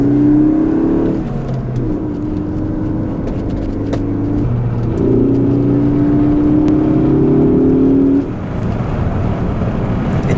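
A 2016 Ford Focus ST engine revs during spirited driving, rising in two strong pulls with a drop between them, loud and close from inside the car.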